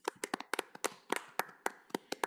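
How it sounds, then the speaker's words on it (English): Sparse clapping from a handful of people at a library board meeting, distinct individual hand claps in an uneven rhythm, close and fairly quiet, with no one speaking. "So please join me in a round of applause"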